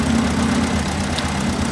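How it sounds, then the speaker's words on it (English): A tractor engine idles on a farm with a steady, loud, low rumble and a constant mechanical hum, close by and unbroken throughout. "Put the tractor in reverse."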